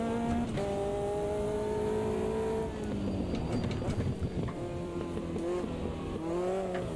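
A 620R race car engine in the video game Automobilista 2 revs high and drops in pitch through gear changes, whining steadily with a brief dip in the middle.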